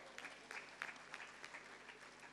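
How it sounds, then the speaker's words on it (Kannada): Audience at a book release event applauding, a steady patter of many hands clapping that carries on throughout, fairly faint and distant. "ಇದಕ್ಕೊಂದು ಚಪ್ಪಾಳೆ ದಯವಿಟ್ಟು"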